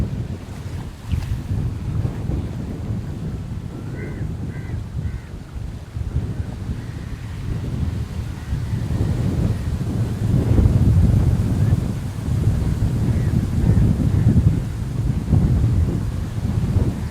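Strong 60 km/h wind gusts roar across the microphone at Pannai beach in Jaffna, buffeting in surges along with the wash of waves and a boat, with no voices over it.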